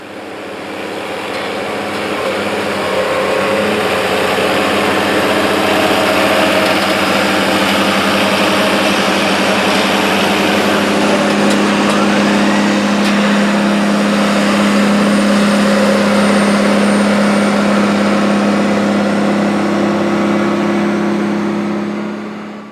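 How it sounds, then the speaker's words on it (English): Case IH MX285 tractor pushing and packing corn silage in a bunker, a loud, steady engine drone that swells and holds for over twenty seconds, with no voices. "The second tractor operating in the bunker is a CaseIH MX285 tractor."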